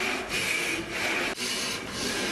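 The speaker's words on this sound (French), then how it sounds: "Il faut scier une longue ligne." A hand saw works steadily through a long line in wood, a quiet repeated rasping of back-and-forth strokes heard close with no voices.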